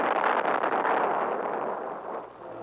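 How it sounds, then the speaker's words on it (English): A cartoon explosion outside, a broad roaring rumble that swells loudly at once and then slowly fades away with no voices over it. "An explosion outside."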